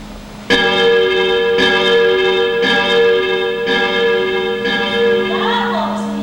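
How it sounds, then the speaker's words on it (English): Large bell rung repeatedly, five or six loud, resonant strikes about a second apart, each ringing on with long sustained overtones and overlapping decay. "I'll give you this one opportunity to learn how to ring the bell"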